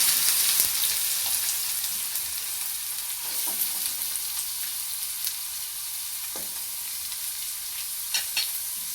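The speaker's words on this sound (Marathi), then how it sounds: "तेल तापल्याच्या नंतर मी इथं छोटे छोटे कांदे चिरून घेतलेले आहेत. मग असे कांदे टाकून द्यायचे." Small chopped onions frying in hot oil, a steady close sizzle with soft crackles and occasional stirring scrapes, no voices.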